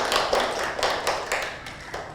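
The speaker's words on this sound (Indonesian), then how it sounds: "Beri tepuk tangan untuk kelompok 2." A classroom group applauds together, a short burst of irregular overlapping hand claps that starts strong and tapers off over a couple of seconds.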